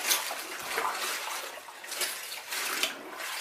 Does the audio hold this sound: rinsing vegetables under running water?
yes